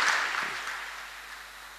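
An audience at a Lenten church lecture claps for a guest speaker, the applause loudest at the start and gradually thinning as it fades out, with no voices over it.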